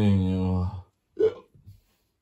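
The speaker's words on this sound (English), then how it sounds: "Have you got the hiccups?" A person hiccups twice in quick succession in a dramatized scene, each short jolting catch close and fairly loud, following a voiced sound that trails off into silence.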